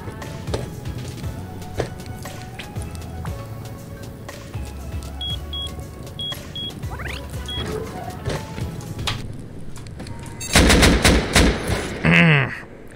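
Rapid automatic rifle fire from an AK auto turret in the survival game Rust, with bursts of gunshots over a busy game soundscape, then a loud close burst near the end.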